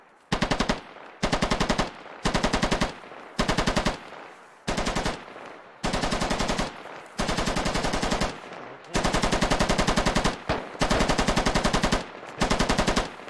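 Heavy machine gun fire in the military shooter game Squad Ops: a dozen or so loud, rapid bursts of automatic fire separated by brief pauses, close and dominant, with no speech.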